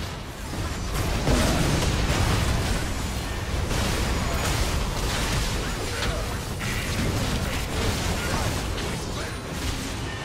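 Dense, roaring blast from an inhibitor being destroyed in League of Legends, heavy and sustained throughout with rumbling low end and crackling bursts, no voices over it.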